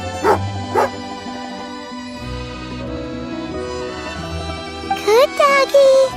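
A cartoon dog in a fantasy video game barks twice in short yips, followed by game music and a burst of higher excited whimpering yelps near the end.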